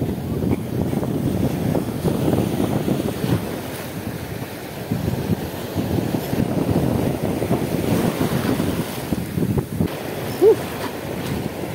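Big ocean waves surge and break continuously during a rough-sea fishing trip, with a steady roar of surf and wind buffeting the microphone throughout, and no voices.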